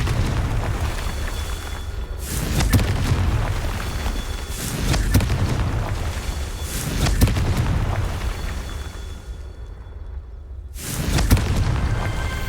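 Spell explosions from Hogwarts Legacy, a series of deep booming blasts and bursts at irregular intervals over a dense, loud game soundscape, with one brief lull before a final blast.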